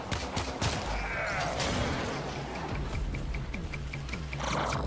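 Gunfire in Warframe, a continuous busy mix of scattered shots and crackling impacts over low rumbling ambience, with a faint repeated beeping tone midway.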